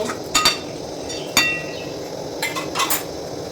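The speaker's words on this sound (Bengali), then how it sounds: "তো চলো এখন ঢাকা দিয়ে নিই" A metal lid goes onto a pan of cabbage and lentil curry with several sharp clinks and clatters, a few spaced metallic knocks over a low background hum.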